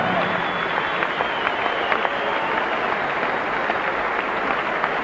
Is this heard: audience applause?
yes